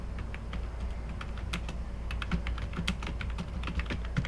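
Typing on a computer keyboard while entering a command-line Python program: a quick, uneven stream of crisp key clicks, close and clear, with no talking over it.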